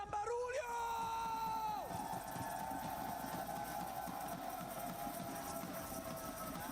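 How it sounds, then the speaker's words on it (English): Crowd cheering and screaming at a PUBG Mobile esports watch party, a steady wash of many voices with yells and whoops. A brief electronic tone and talk come first. "we do have quite a bit of crowd presence"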